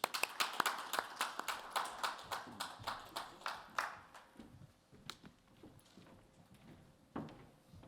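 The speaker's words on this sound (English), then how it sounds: "A round of applause as we welcome them on stage." A small audience at an NFT panel event claps to welcome panelists on stage. The claps are sparse and distinct, in a fairly regular rhythm that thins out to a few scattered claps.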